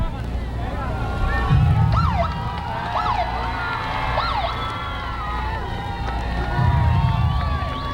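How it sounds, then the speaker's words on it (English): An excited roadside crowd at a torch relay makes noise as the runners approach, with loud sirens wailing and warbling over the crowd and a few low engine bursts as escort vehicles pass close by. "let's take a listen to the crowd here."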